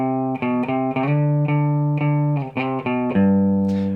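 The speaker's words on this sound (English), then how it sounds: "just picking close to the bridge can get you a little bit of that sound" Electric guitar with the tone knob all the way up, picked close to the bridge for a bright country twang: a steady run of crisp, ringing single notes, close and clear with no talk.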